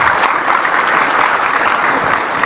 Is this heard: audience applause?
yes